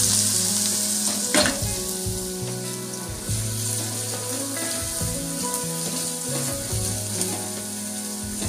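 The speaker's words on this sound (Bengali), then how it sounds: "এবার আমি ওই তেলের মধ্যে আলু ভাজার জন্য আলুগুলো ছেড়ে দেব।" Thin shoestring potatoes fry in hot oil in a kadai, giving a continuous close sizzle with occasional stirring and scraping noises.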